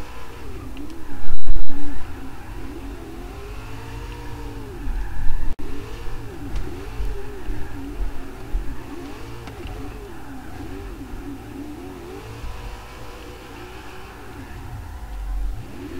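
A car in Forza Horizon 3, set up as a drift car, revs hard and slides around, its engine note rising and falling in long sweeping waves with a loud burst near the start and continuous tire and motor noise throughout.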